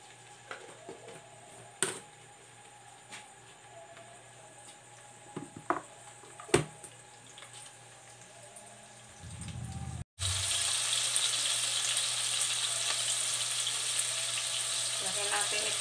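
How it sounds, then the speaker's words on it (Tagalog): Garlic being sautéed in a pan for a chayote and sardine dish: scattered light clicks and taps at first, then a loud, steady sizzle of frying takes over and continues to the end. "Lahin natin ang bawang."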